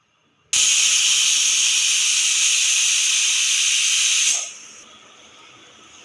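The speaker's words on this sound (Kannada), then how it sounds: "ಇವಾಗ ಒಂದು ವಿಷಲ್ ಬಂದಾಗಿದೆ" A pressure cooker on a kitchen stove lets out one loud, shrill whistle with rushing steam that holds steadily for about four seconds, then drops to a softer lingering hiss.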